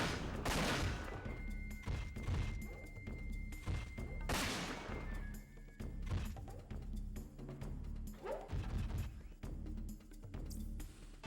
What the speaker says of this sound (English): I should use the shotgun.